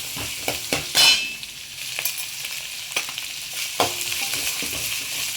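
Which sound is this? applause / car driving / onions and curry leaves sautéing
onions and curry leaves sautéing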